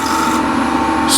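A burred cabinet scraper drawn across a poor-quality piece of timber makes one steady, loud, close rasping scrape that runs without a break.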